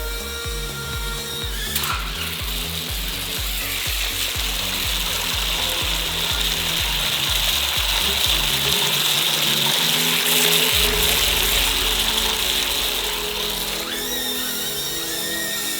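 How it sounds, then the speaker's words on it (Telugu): A drone switched into boat mode skims across water, its motor giving a steady high whir over rhythmic mechanical chatter and watery churning throughout; no one speaks. "దీన్ని వాటర్లో మనం యాజ్ ఏ బోట్లా కూడా పంపించవచ్చు"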